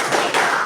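A classroom of students does tepuk semangat, a short burst of loud, close hand claps with a sharp second wave partway through, no voices over it.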